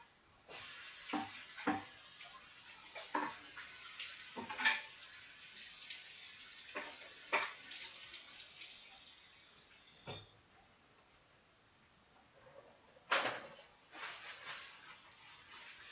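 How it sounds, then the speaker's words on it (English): Running tap water rinses a cutting board at a kitchen sink, a steady soft hiss broken by irregular splashes and clunks as the board shifts under the stream, fairly faint and with no voices. "I'm going to give the cutting board a quick rinse."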